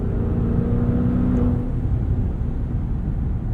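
Maserati 2021 SUV with a 3.8-liter V8, exhaust note and turbo induction: a steady, deep engine rumble with a brief rising whine early on, heard up close without talk.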